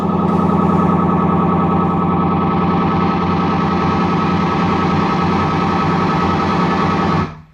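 A loud, dense electronic test tone from a Kemper Profiling Amp blares steadily for several seconds in a studio, then cuts off abruptly.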